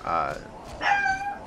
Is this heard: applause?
no